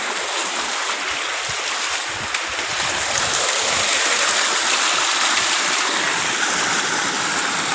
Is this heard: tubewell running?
yes